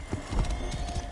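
Horse hooves clip-clopping in Assassin's Creed Origins, a steady close rhythm of low thuds with an occasional faint whinny, no talk.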